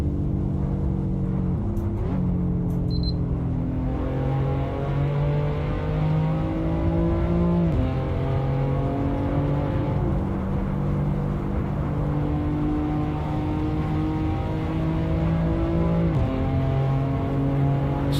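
A McLaren race car in the Assetto Corsa racing game revs hard and climbs through the gears, its loud, continuous engine note rising and dropping at each upshift, with no talking over it.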